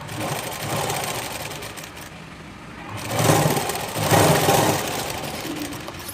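A sewing machine stitches a blouse in steady whirring runs that pause briefly and then pick up again. The machine is loud and close, with no talking over it.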